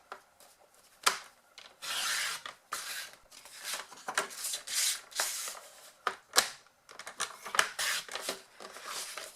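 Stampin' Up paper trimmer slicing patterned craft paper, a run of close, dry rasping and rubbing cuts with short pauses between strokes, with no talking.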